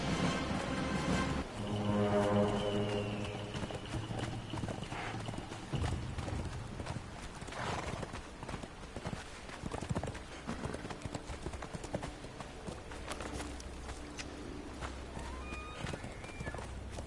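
Horse hooves clip-clop steadily in the video game Conan Exiles, a continuous rhythmic beat of a ridden horse with a whinny near the start, layered with game ambience and music.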